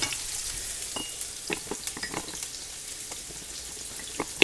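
Salisbury steak patties frying in a pan give a steady crackling sizzle with scattered sharp pops, close and moderately quiet, and no speech.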